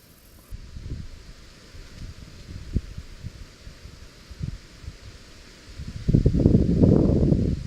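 Strong northeast wind blows steadily over open water during a kayak bass-fishing outing, a rough rushing buffet that gusts in short bursts before building into a louder, sustained roar near the end, with no talking.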